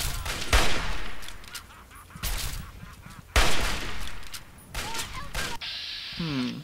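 Repeated heavy gun blasts in Fallout 3 combat, several loud shots spaced a second or so apart with crackling debris between, ending in a squawking honk-like cry.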